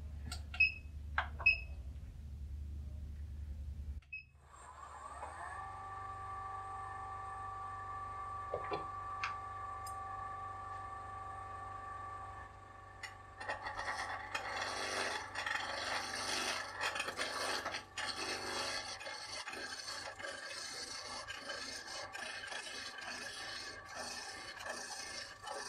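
A wood lathe spins a chuck spanner handle blank, first a low motor hum, then faint scraping and rasping of a tool against the turning wood, steady and fairly quiet.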